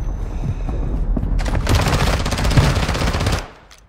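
Rapid automatic gunfire in a video game shootout, loud bursts of machine-gun fire that rattle steadily for about two seconds and then cut off abruptly.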